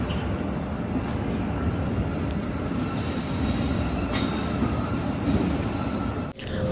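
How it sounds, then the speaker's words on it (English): A train rumbles steadily nearby at a railway station, with faint squeals of wheels on rails and a brief sharp screech near the end. "We're just outside the train station."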